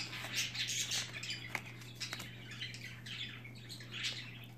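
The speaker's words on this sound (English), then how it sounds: "This is how deep the birds are in the vibe right now, guys. Those are two parakeets." Two parakeets chirp and squawk indoors, quiet, rapid twittering and scratchy calls in irregular bursts over a steady low electrical hum, with no talking.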